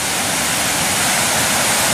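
Rushing floodwater during a typhoon, a loud, steady broadband roar of churning water like a waterfall, continuous and close with no pauses or voices.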